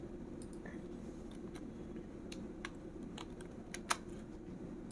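Quiet computer keyboard typing, a scattered run of soft key clicks over a low room hum, close but faint, with no voice.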